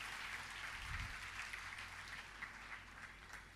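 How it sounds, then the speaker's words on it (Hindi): Audience applause from a gathering at a Jain spiritual discourse, a steady dense wash of clapping filling the whole stretch at even loudness, with a brief low thump near the start. "इस समाज की बेटी के लिए जोरदार तालियां बजाकर इसका स्वागत"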